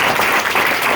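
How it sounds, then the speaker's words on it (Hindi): A seated audience at a company branch office gathering in Mumbai gives a brief burst of loud, dense applause, a continuous roar of clapping hands lasting about a second. "जो लोग बैठे हुए हैं आप लोग एक बार जोरदार तालियां आपके लिए।"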